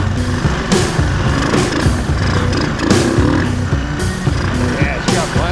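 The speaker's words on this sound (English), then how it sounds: "That's first gear. First gear feels good." A 1980 Honda ATC 185 three-wheeler, rebuilt and running with no air filter, revs steadily in first gear with a rough, buzzing small-engine drone that rises and falls in pulses, loud and close throughout.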